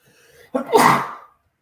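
A single loud sneeze, a brief inhale then a sharp burst that trails off into silence.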